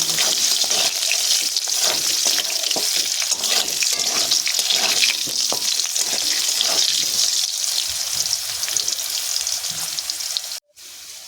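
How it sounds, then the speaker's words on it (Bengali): Potatoes sizzle steadily in hot oil after salt is added for a katla fish recipe with potol, a dense crackling fry broken by stirring scrapes, continuous and close, cutting off briefly near the end. "লবণটা দিয়ে আমি আলুগুলোকে আবার একটু নাড়া করে ভেজে"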